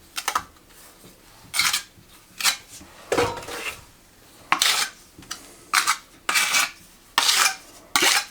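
Tile adhesive spread across the back of a loose tile with a spade or trowel, giving repeated short scraping strokes in an uneven rhythm, close and fairly loud with brief pauses between passes and no voices.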